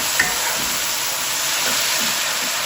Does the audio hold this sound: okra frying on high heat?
yes